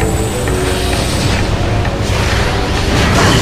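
A missile explosion in Metroid Prime, a dense roaring blast that fills the whole clip, loud and sustained without a clear start or end, with no talking.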